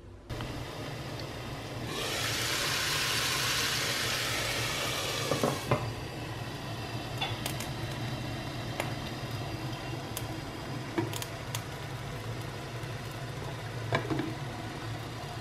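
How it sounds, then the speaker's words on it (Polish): Chicken frying in coconut oil in a home kitchen: a loud hissing sizzle rises for a few seconds, then settles into a softer crackle with scattered pops and faint clinks over a low background hum, with no talking. "Za chwilę będę smażyć to na oleju kokosowym"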